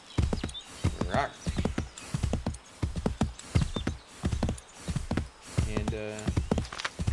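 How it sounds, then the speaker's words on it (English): A horse's hooves clip-clop at a steady walking rhythm in the Assassin's Creed III video game, mixed with snorts and a whinny near the end, while someone talks over the sound throughout. "here's some horse hooves and heavy breathing"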